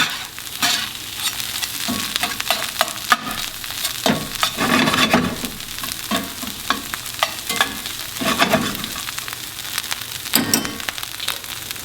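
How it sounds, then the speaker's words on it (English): A metal spatula scrapes and stirs browning tempeh in a hot, oiled frying pan, with repeated gritty scrapes over a loud, constant sizzle. "I'll switch over to a metal spatula just to get these bits that are sticking down here"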